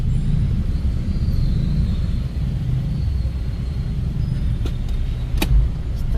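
A car driving along a road, a steady low rumble of engine and tires that stays close and even, with a few brief clicks near the end and no talking.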